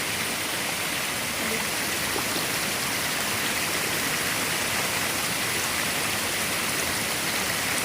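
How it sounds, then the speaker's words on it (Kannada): River water rushing loudly and steadily after a night's rise in level, a continuous broadband roar with no voices, close and constant throughout. "ಇನ್ನೂ ಇದು ಹೋಗ್ತಾ ಇರ್ತದೆ ನೀರು."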